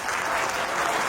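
An audience claps steadily, a dense, even wash of applause filling the room without pause and with no voices standing out.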